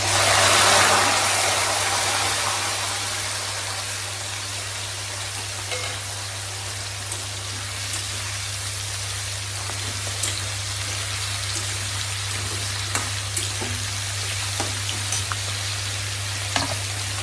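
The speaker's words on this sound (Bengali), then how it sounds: "তো দিয়ে দিচ্ছি এবার তেলের মধ্যে করলাগুলো।" Bitter gourds (karela) sizzle in hot oil with a loud burst as they go into the pan, then settle into steady crackling and popping. A constant low hum runs underneath.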